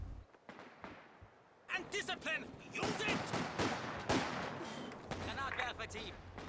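Dense, sustained gunfire, including a machine gun held in a building in a Company of Heroes 2 multiplayer match, crackles steadily with scattered bursts and no pause.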